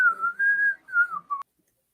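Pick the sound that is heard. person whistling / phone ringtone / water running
person whistling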